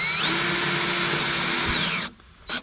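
Power drill driving a screw into sheetrock during a drywall repair, one loud steady whine of about two seconds that rises in pitch, holds, then drops off and stops, with a short knock after.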